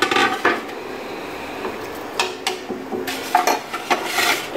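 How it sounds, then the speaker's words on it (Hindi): Chana dal added to minced beef in a cooking pot: a soft pouring rattle followed by scattered clinks and knocks of a utensil against metal, close and fairly loud. "अब इसी के अंदर मैं चने की दाल डाल दूँगी"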